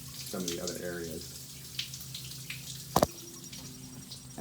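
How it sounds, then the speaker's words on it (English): Water runs steadily down a stormwater channel in Pasadena, Maryland: a soft, continuous rushing wash, with a voice briefly at the start and a sharp knock midway. "I hear something down there, so there's definitely water still flowing"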